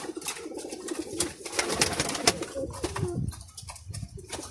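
Pigeons coo nearby in soft repeated throaty calls, with light rustling and faint background noise around them.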